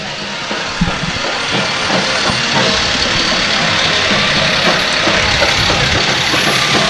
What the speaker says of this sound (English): that's a unique vehicle because it's actually a gas truck and he's checking it out